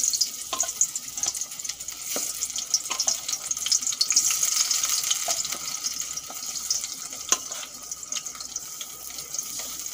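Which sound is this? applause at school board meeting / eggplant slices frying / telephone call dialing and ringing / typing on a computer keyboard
eggplant slices frying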